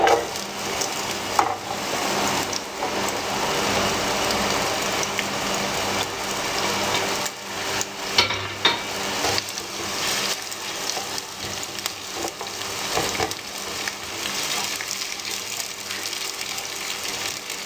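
Onion rings hit hot oil in a pan and fry with a loud, continuous crackling hiss like heavy rain, steady for many seconds with occasional stirring knocks, close up and with no voices.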